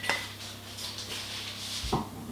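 A metal saucepan is handled while olive oil goes in for rice pilaf, giving two light clinks, one at the start and one near the end, over soft kitchen rustling.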